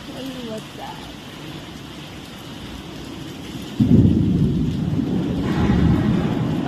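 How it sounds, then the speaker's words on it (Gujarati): Heavy rain pours over Ahmedabad on a Navratri evening, a steady wash that suddenly swells into a loud roar with deep thunder rumbling, while voices are faintly heard. "ચાર વાગે વરસાદ ચાલુ થયો છે અમદાવાદમાં જબરજસ્ત વરસાદ છે"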